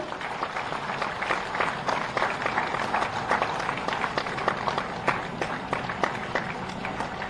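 Sustained audience applause for teachers honoured at a state ceremony, a steady rattle of many hands with some sharper individual claps standing out, continuing throughout.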